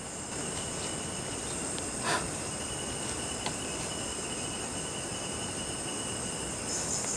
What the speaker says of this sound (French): il y a des bestioles dans les arbres là-haut